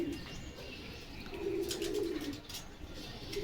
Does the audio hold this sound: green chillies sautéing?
no